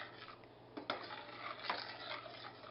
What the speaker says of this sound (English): I'm just going to go ahead and stir this in